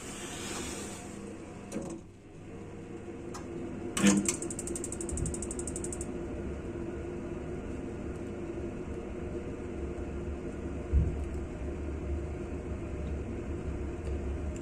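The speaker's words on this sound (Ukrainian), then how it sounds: "І запускаємо котел." A heating boiler powered from a portable charging station starts up: mechanical clicks and a ratcheting whir near the four-second mark over a steady low hum, then another soft click later.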